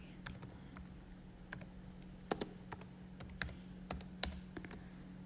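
Quiet typing of HTML code on a computer keyboard, irregular soft key clicks in small clusters over a faint steady hum.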